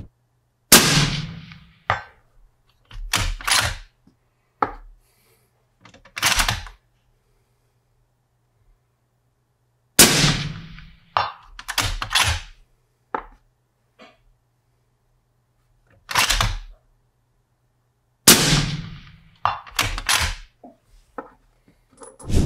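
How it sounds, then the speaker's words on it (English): 7 PRC Primal rifle with a 22-inch barrel firing 166-grain A-Tip loads, three loud sharp shots spaced several seconds apart, each followed by echoing reports and clatter, no talk. "we're starting off with a 7 PRC Primal with a 22-inch barrel shooting a 166 A-tip"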